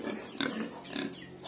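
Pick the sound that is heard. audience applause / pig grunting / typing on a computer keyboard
pig grunting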